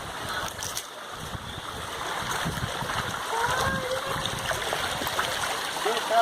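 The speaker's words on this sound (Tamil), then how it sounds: "இதுக்குள்ளேயும் தண்ணி போயிட்டு இருக்கு." Water in a forest stream flows and trickles steadily at a moderate level, with occasional faint splashes and distant birdsong.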